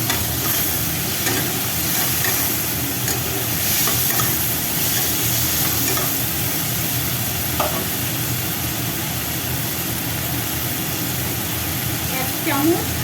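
Ginger garlic paste sizzling and frying with tomatoes in a pan while being stirred for butter chicken, a steady broadband hiss that runs throughout with faint scraping touches.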